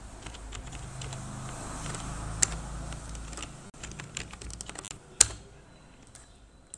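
Fast typing of HTML tags on a computer keyboard, a dense stream of light key clicks with two louder key strikes, close and steady with no talking.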